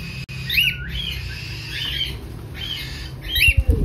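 Hand-tame pet birds, including cockatiels, give a string of shrill squawks and chirps close by, repeated several times, with some handling noise toward the end.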